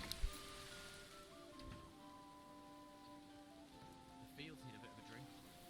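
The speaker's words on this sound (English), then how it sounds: "Okay, it's raining." Rain in the video game Manor Lords patters softly and steadily under a quiet sustained music bed, with a few faint thumps near the start.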